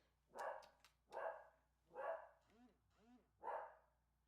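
A dog barks in a room during a podcast recording, about six barks in an uneven rhythm, including a couple of higher yelping, whiny barks, fairly clear and close.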